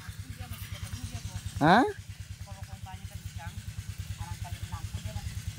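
A seedling watering machine's engine runs steadily through the clip, a rhythmic low mechanical pulse with clattering beats, while a short spoken interjection rises above it near the middle.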